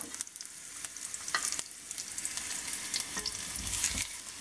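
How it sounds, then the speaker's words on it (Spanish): Garlic and onion fry in hot oil on a stove for green mole, a steady close sizzle broken by scraping stirs and occasional clinks of a utensil against the pan. "En aceite caliente doramos los ajos y añadimos la cebolla."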